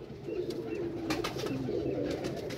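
A pigeon from a Mian Nazir bloodline coos softly in a low, continuous burble close by, with faint background noise and no talking.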